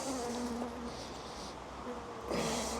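Several honeybees at an open hive buzz close by, their hum rising and fading as they move around, with a louder burst of buzzing near the end.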